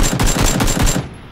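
Rapid automatic gunfire in the PUBG video game, a loud close burst of about five shots that stops abruptly.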